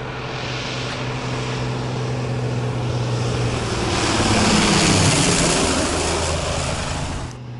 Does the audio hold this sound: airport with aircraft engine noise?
yes